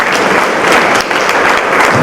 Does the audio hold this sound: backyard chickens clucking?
no